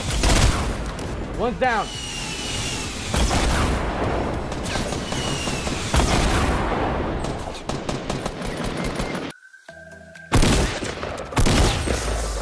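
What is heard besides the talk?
gunfire in the video game Fortnite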